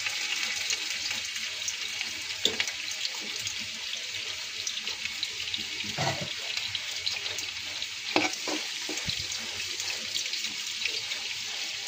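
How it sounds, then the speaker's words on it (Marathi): Finely chopped garlic fries in hot oil in a pan while cooking fried rice, giving a steady close sizzle with occasional stirring clatters and scrapes. "आपलं तेल गरम झालं। आता मी हा लसूण असा बारीक कापून घेतलाय। हे लसूण टाकूया।"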